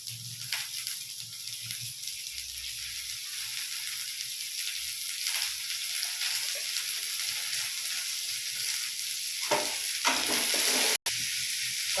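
Tomato and curry leaves frying in a pan, giving a steady bright sizzle with occasional scraping stirs and a brief dropout near the end, close up and with no voices.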